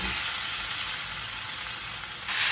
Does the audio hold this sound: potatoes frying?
yes